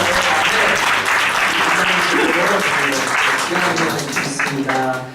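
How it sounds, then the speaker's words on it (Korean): Congregation clapping loudly during a Sunday morning service at Seongnam Cheongun Church, a dense, sustained roar of many hands with a voice speaking over it partway through, fading slightly at the end. "크게 박수하십니다"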